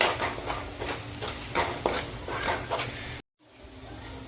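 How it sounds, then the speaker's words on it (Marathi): Tomato and boiled chickpea paste sautéed with onion for chole masala, stirred in a pan with a steady sizzle and rhythmic scraping strokes for about three seconds before a sudden cut to near quiet. "आता पुन्हा एकदा मी हे चांगलं परतवून घेते"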